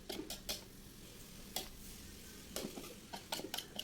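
A spatula stirs nasi kuning rice with salt, bouillon powder and oil in a small wok over high heat, scraping and clinking in irregular strokes over a soft, close sizzle.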